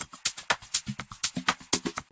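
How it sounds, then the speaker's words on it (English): An unprocessed shaker loop shuffles in a steady groove, its bright, rhythmic shakes layered over soft, low, plucked tones, about nine clear accents in a row with no voices. "I added in another shaker loop that originally sounded like this."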